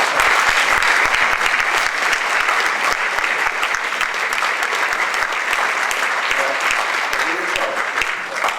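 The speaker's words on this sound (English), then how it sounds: "Please give her a big applause." A debate audience applauds with dense, sustained clapping that fills the whole stretch, loud and even before thinning slightly at the close.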